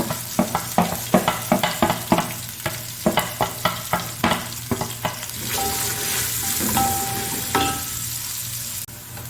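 Onions sizzle and crackle in a hot pan for an aloo anday dish, with a run of sharp utensil scrapes and taps on the pan over the first half before the frying hiss carries on alone.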